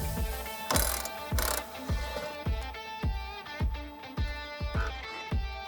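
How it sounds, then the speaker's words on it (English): A ratchet loosens the front subframe bolt on a 2024 Mustang convertible, giving about a dozen crisp, evenly spaced clicking strokes up close, with two brief scraping hisses early on and no talking. "We're gonna loosen this front subframe bolt."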